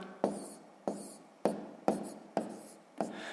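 Pen strokes writing out a column multiplication of decimals on paper, six distinct scratchy bursts in a steady rhythm, close and clear with no talking.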